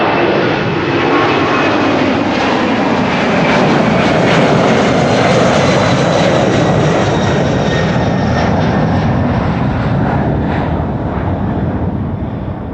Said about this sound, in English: DHL A300 600 on its way to Madrid